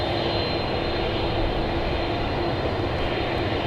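Airliner jet engines roar steadily on a runway at DFW Airport at night, with a Fiji Airways 747 and a 767 nearby; the dense, even engine noise is loud and close and continues unbroken, with no speech.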